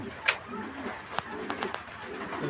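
Fancy pigeons kept for sale coo in short soft bursts from close by, broken up by a few sharp clicks and rustles.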